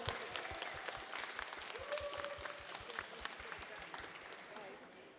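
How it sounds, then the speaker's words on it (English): An audience applauds at the grand final of a robot combat event. The clapping is distant and fairly quiet, continuing under a voice talking over it. "Another round of applause for"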